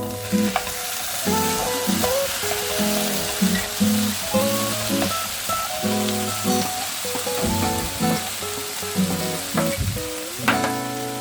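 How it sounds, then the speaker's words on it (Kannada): Chopped tomatoes frying in oil in a pan, stirred with a utensil, giving a steady close sizzle broken by repeated clattering scrapes and knocks, with no voices. "ಈಗ ಟೊಮೆಟೊ ಹಾಕ್ಕೊಂಡು"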